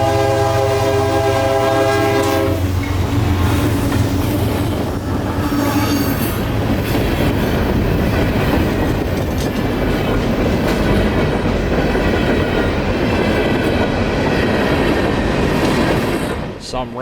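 Freight train K339 rolls past on a Central Florida phosphate line, opening with a loud sustained horn chord for about two and a half seconds, then a continuous close roar of cars, wheel rumble and squeal for the rest of the pass.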